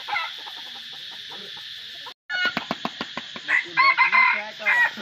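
Roosters crow repeatedly in loud, close bursts while hens cluck around them, the calls briefly cut by a short silent gap before a dense run of overlapping crowing and clucking resumes.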